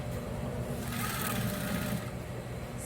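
Sewing machine running a steady stitch along the seam of a Christmas cushion, a continuous close mechanical whirr with no pauses and no talk.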